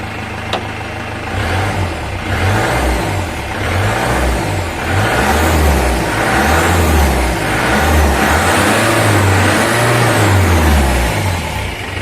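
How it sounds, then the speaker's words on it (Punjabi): A restored Mahindra Thar 4x4 runs with a custom silencer fitted, its engine idling with a low, steady rumble and repeated rhythmic revs rising and falling, close and loud throughout with no talking. "ਗੱਡੀ ਦੀ ਆਵਾਜ਼ ਬਹੁਤ ਜ਼ਿਆਦਾ ਪਿਆਰੀ ਬਣੀ ਹੈ ਜੀ"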